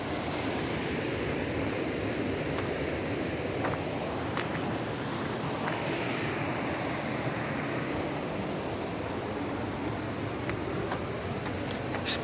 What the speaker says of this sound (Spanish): el sonido del agua, fuente de vida